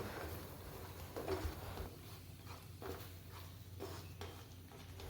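Paneer masala paste being stirred in ghee in a pan, with quiet scrapes and scattered light clinks of a spoon against metal, faint and close.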